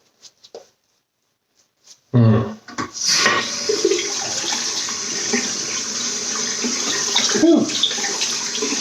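Water gushes from a tap in a sudden loud burst after a few quiet clicks, then flows steadily for several seconds as a shaving brush is wetted under it.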